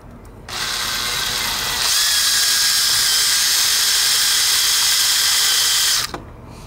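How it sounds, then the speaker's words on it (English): An electric drill spins a wire brush against corroded scooter aluminum, a loud continuous high whir and scrape lasting several seconds before cutting off abruptly. "I'm gonna start with the wire brush on my drill."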